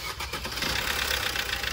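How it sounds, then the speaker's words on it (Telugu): A 2017 Maruti Suzuki Ertiga VDi diesel cranks and fires up, settling quickly into a steady, slightly clattery idle heard close by. "ఇప్పుడు మీకు కూడా ఒకసారి ఇంజన్ స్టార్ట్ చేసి చూపిస్తాను"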